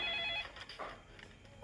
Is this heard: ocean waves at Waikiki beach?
no